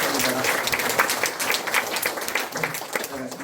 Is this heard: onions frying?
no